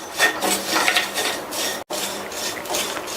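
Vermicelli is roasted in ghee in a metal pan over medium heat, with a spoon scraping and clinking steadily against the pan bottom and a brief pause partway through.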